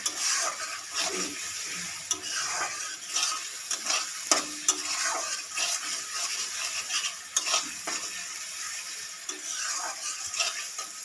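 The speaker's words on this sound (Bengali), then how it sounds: "টমেটোটা দিয়ে আমি এবার এটা ভাজতে থাকবো।" Tomato and onions frying in oil in a pan for chicken curry, a close sizzle broken by repeated scraping stirs of a spoon against the pan, with no talking.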